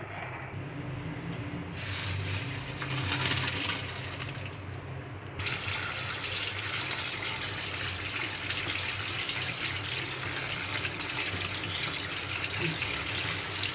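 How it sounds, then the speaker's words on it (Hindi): Boiled pasta rinsed under a running kitchen tap, a steady hiss and splash of water into a sink that briefly changes tone as the stream is interrupted, then continues evenly; no talk is heard. "अब हमें इसे पानी से वॉश कर लेना है"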